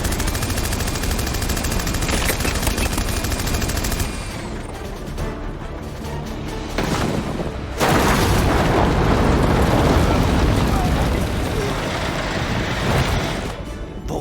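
Gunfire in an animated movie, loud and continuous rattling shots blending with booming blasts throughout, with a brief dip partway through.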